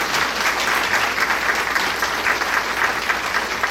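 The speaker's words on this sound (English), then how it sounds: "So let's give them another round of applause for their great efforts." A school board meeting audience applauds students in a full, even round of clapping from many people, sustained and fairly loud with no break and no talk over it.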